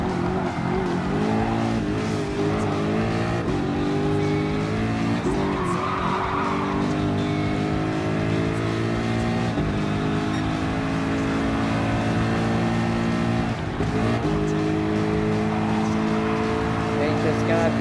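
The Ford GT LM Spec II race car in Gran Turismo Sport roars through gear changes and revs, with tires squealing through corners. The engine runs continuously and loudly for the whole stretch while a voice talks over it.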